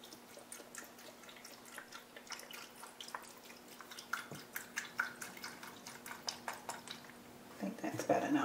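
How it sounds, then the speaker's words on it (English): Vegetable broth pours over jackfruit in a pot, giving faint close dripping and splashing under a low hum, swelling louder near the end. "I'm just going to put enough vegetable broth in here to cover all of my jackfruit."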